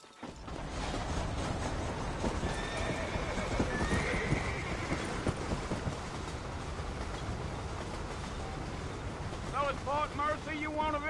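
Several horses clip-clop along at a steady pace in a Wild West video game, with voices talking over the hooves and a clear neigh near the end.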